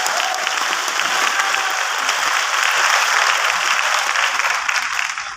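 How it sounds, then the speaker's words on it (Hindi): Loud, sustained applause from a large audience at a Modicare business update meeting, a thick continuous roar of clapping that holds steady before tailing off at the very end. "जोरदार ताली आप मोदी केयर के लिए बजा सकते हैं।"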